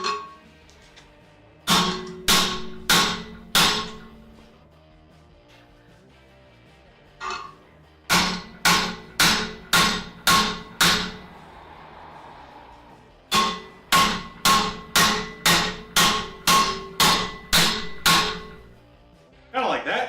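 A hammer strikes metal held in a vise in quick, evenly spaced sets of ringing blows, loud and close, with short pauses between the sets.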